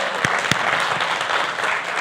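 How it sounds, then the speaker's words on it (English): Audience applause at a personal branding talk, a dense burst of clapping from a crowd with a couple of sharp louder claps near the start, steady and loud throughout. "give you a big round of applause for all of us here"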